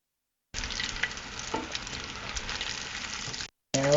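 Mozzarella bites frying in oil turned down to lower heat, a continuous close bubbling sizzle that cuts off abruptly near the end and briefly resumes, with no talking.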